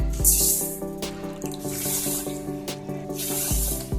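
Water pours from a cup into sugar in a pan for kunafa syrup, a close splashing stream with drips, over a humming background tone.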